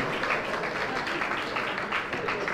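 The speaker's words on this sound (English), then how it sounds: "Can we please appreciate Pastor with a round of applause one more time?" At a 50th birthday party, an audience gives a pastor a dense, steady round of clapping, with voices audible over the applause.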